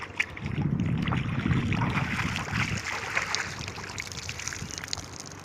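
A stream flows over rocks in open country with a steady rushing wash, louder at first and then easing into a softer trickle, with no voices.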